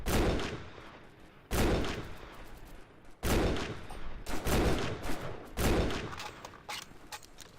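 Gunfire from the video game Delta Force: Xtreme comes in four loud bursts of rapid shots, each cut off sharply before the next, with no talking.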